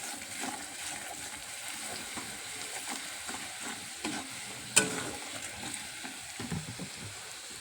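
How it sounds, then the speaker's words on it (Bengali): Spices with turmeric and chili powder sizzle steadily in a pan while being stirred and cooked down, a continuous close crackle with occasional louder spatters and scrapes. "ভালো করে এটা কষাতে থাকবে"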